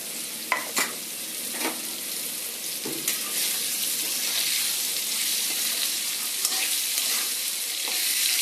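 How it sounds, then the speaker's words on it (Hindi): Pumpkin pieces drop into hot oil with cumin seeds and asafoetida, giving a loud, steady sizzle with a few sharp clatters of a spoon stirring near the start. "जीरा लाल हो चुका है, अब मैं इसमें ये कद्दू डाल दूँगी।"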